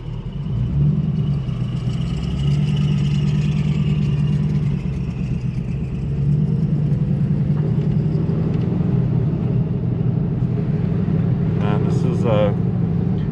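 A Ford Crown Victoria fitted with a 7.3L Godzilla V8 swap rumbles steadily from inside the cabin while driving, a continuous low engine drone with no brake squeal, under occasional speech.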